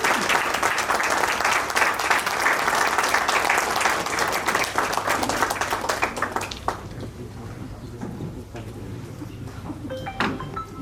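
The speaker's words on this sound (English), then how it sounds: "let's have a big round of applause for him" A workshop audience gives a big round of applause for an official being escorted on stage, dense sustained clapping that gradually thins and fades to a few scattered claps and faint room sounds.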